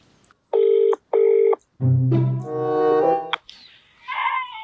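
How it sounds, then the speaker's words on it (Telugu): A phone rings in two short electronic bursts, then a ringback-style tone continues with a voice briefly speaking near the end. "రాధకు ఫోన్ చేద్దాం."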